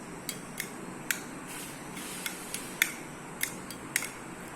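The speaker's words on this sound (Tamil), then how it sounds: "ஓகே இப்போ இதை நல்லா மிக்ஸ் பண்ணி விட்டுக்கலாம்" A spoon stirs ragi kool drink in a bowl, giving a series of sharp, irregular clinks against the bowl, close and fairly quiet, with no voices.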